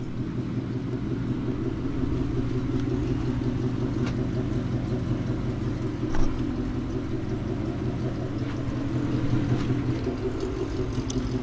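A Ford Mustang S550 fitted with aftermarket headers and intake idles with a steady, low exhaust rumble nearby, holding a fairly even drone with a slight swell late on and one brief knock around the middle.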